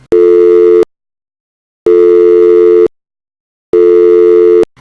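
Telephone busy signal on a failed call, a loud steady buzzing tone repeating in three long bursts with clean silent gaps between them.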